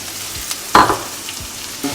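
Onions dropped into hot oil for Sri Lankan fish patties, a brief sizzle with one loud burst as they hit the pan and a few stirring clicks, close up and with no speech.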